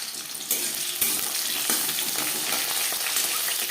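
Onion and a torn bay leaf fry in hot refined oil for a fish curry, a steady close sizzle punctuated by a few sharp clatters of the pieces dropping and being stirred, with no voices.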